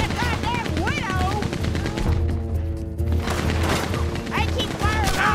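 Rapid gunfire rattles continuously in the video game Red Dead Redemption Remastered, fitting a Gatling gun, loud and dense under game voices and shouting, with a brief lull midway.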